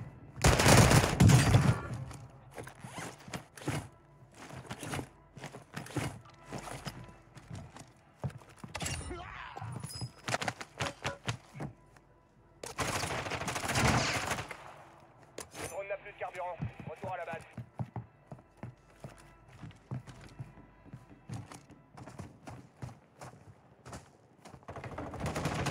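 Heavy sniper rifle fire with explosive bullets in a video game: loud, repeated cracking shots and bursts, some in rapid clusters, mixed with crashing impacts while voices talk over the action.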